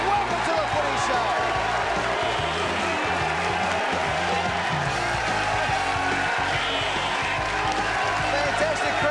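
A television studio audience at the Footy Show applauding and cheering, a dense continuous roar of clapping and crowd noise, loud and sustained with a voice speaking over it.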